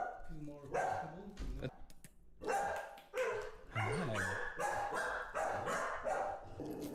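A puppy barks in short yips and bow-wows, several bursts spaced through the moment, close and fairly quiet, mixed with people talking nearby.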